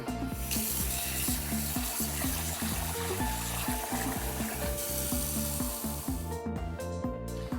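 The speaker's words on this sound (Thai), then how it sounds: "หลังจากนั้นนะครับเราก็เอาไปล้างน้ำ" Raw prawns are rinsed under a running kitchen tap, a steady hiss of water heard alongside rhythmic background music.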